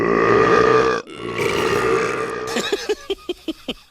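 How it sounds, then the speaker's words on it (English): A long, deep burp rumbles out, said to come from a cow, followed after a pause by a rougher croaking belch that ends in a series of short, evenly spaced gulping pulses. "Did you know that cow burps are a major cause of climate change?"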